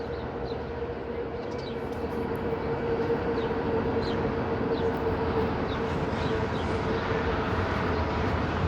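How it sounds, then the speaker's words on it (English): A long train rolls past on a winter city walk along Davenport Road in Toronto, a steady continuous rumble and rush holding at constant loudness throughout, with a faint tonal hum and occasional higher squeaks above it. "That must be a pretty long train."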